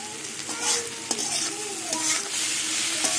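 Ingredients for a bhola fish dish sizzle loudly in a hot pan while being stirred, with scraping strokes and bursts of crackling over a constant hiss.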